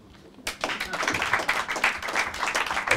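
Applause breaks out from the audience at a club event, starting abruptly after a near-silent moment and continuing as steady, dense clapping at moderate volume, with a little crowd noise mixed in.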